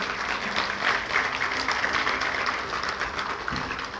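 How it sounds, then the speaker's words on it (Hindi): An audience applauds at a Shiv Jayanti programme in Sonipat, a steady, moderately distant wash of clapping lasting the whole stretch without pauses. "आप भी तालियों से कुमारी का बहुत बहुत उमंग बढ़ाएं।"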